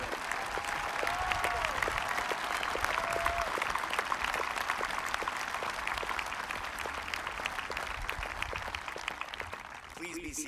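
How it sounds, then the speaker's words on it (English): Sustained applause from a large crowd at a 2021 high school commencement ceremony, steady and dense for about ten seconds before tapering slightly at the end, with a faint voice briefly over it. "Could we please have a round of applause for all these brave men and women?"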